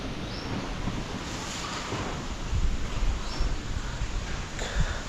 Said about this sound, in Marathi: आता खूप वारा म्हणजे भरपूर